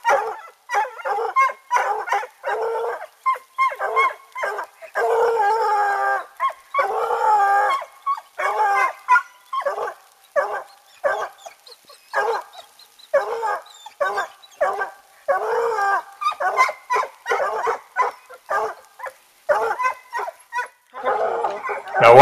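Coonhounds bay and howl outdoors in a long, continuous chorus of loud, drawn-out bawls and barks, repeating in ragged rhythm with brief gaps, close and dominant throughout.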